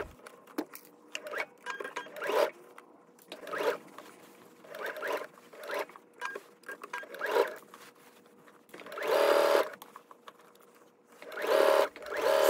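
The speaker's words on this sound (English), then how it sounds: "you're going to edge stitch the side and lower edges of the gusset below the small dots" A sewing machine edge stitching the side and lower edges of a fabric gusset runs in short bursts of rapid, whirring stitching separated by pauses, close and moderately quiet.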